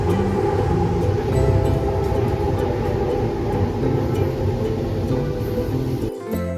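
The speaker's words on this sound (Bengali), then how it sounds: "আমাদের মেট্রো আসছে এখানে" A metro train pulls into a station in Bangalore with a loud, close, continuous rumble and rattling wheel noise. The sound eases off abruptly at the end.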